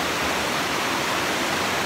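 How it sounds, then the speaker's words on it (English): A fast-flowing river rushes through a narrow nip in snowy country near Edzell, a dense, loud, unbroken roar of churning water filling the whole moment with no voices. "So this is a bit where the river flows really fast down here."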